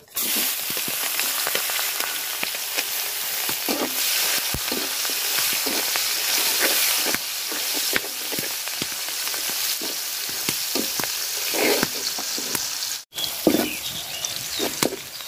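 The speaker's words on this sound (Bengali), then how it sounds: "তো মাছ ভাজার তেলে আমি পেঁয়াজ আর কাঁচামরিচ দিয়ে দিলাম।" Onion and green chillies sizzle in leftover fish-frying oil, a loud close continuous hiss with rhythmic scraping stir strokes and brief clatters of a spatula against the pan, no voices present.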